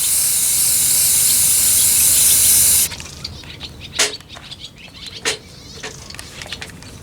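Coolant sprayed onto electric clipper blades during dog grooming, a loud steady hiss for about three seconds, then quieter clicks and handling noises.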